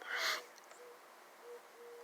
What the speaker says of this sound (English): And my Asian doves are howling.